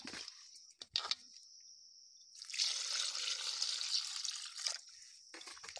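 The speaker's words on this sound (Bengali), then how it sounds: "এর ভিতরে জল দিয়ে ধুয়ে নেব" Salted rohu fish rinsed under running water: a steady, close hiss of flowing water for a couple of seconds, framed by scattered drips and splashes, with no talk.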